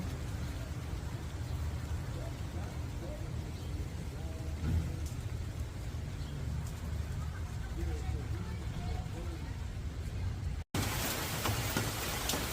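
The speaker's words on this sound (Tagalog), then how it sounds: "Malakas ang ulan guys." Heavy rain pouring down on a garden with hydrangeas, a dense, steady hiss throughout, with a faint voice underneath and a brief dropout near the end.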